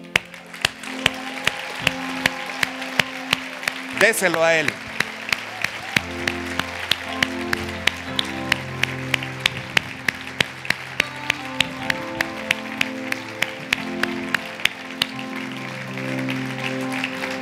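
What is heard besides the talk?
applause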